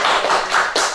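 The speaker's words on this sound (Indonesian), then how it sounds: "Tepuk tangan untuk kita semua" Short burst of clapping from a small group in a casual podcast studio, a few quick hand claps lasting about a second with no talk over it.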